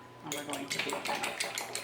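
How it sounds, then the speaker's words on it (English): Sour cream, cream and egg beaten together in a bowl for almond flour muffin batter, giving a quick repetitive scraping and clinking of utensil against bowl, close and steady, with talking over it. "And we're going to beat them."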